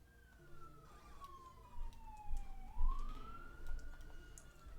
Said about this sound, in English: of course a police car went by.